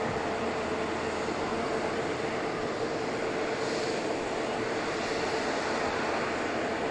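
A Boeing 787 Dreamliner lined up on the runway at Manchester Airport makes a faint, distant, steady jet rumble and hiss that stays low and unchanging.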